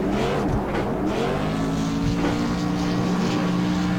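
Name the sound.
late model race car doing burnouts at Bristol, from video game Fascar sim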